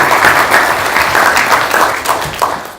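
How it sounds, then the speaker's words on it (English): Audience applause at a tech meetup in Ann Arbor, a loud, dense wash of many hands clapping at once, sustained and then tapering slightly near the end. "Big round of applause for all of our speakers."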